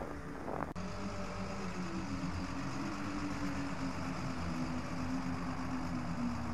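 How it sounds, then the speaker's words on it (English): A truck engine drones steadily in the Lost Horizon video game, a low sustained hum with a faint tonal whine that rises slightly as it draws nearer, continuous for several seconds with no talk. "Can you hear that? Sounds like an engine."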